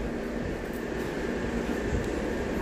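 A metro train at Chueca station in Madrid hums and rumbles steadily nearby, a continuous low drone with faint mechanical whine and no voices.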